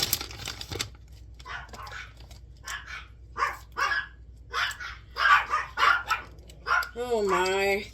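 Dogs bark repeatedly in a home kitchen during cooking, sharp bursts scattered across the clip, with people talking around them and a higher whining tone near the end.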